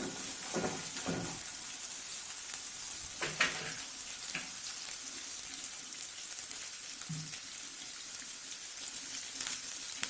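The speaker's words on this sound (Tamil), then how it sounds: "ஒரு வரமிளகாய் போட்டுக்கலாம். வெங்காயம் கொஞ்சம் நல்லா வதங்கட்டும்." Sliced onions and a dried red chili sizzle in hot oil in a pan, giving a continuous close crackle with occasional stirring scrapes and louder spits and no voices.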